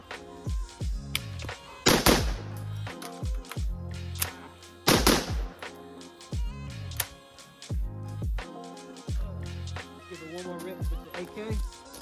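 AK rifle gunshots, a series of sharp loud reports with two especially heavy blasts, spaced irregularly among clatter and handling noise, close by.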